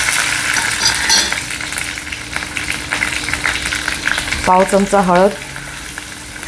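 Hot oil sizzles with a tempering of mustard seeds and green chili for a bottle-gourd raita, crackling steadily close by while a voice speaks over the frying.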